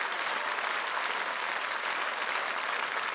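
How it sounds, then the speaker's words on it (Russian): Dense, even applause from a large television audience for a song and dance ensemble on a dance competition show, loud and unbroken throughout with no talk. "Эти аплодисменты вам"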